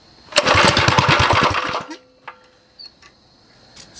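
Predator 212 minibike engine firing up and briefly running with rapid loud pulsing, then cutting out after about a second and a half, leaving a few faint knocks and clicks.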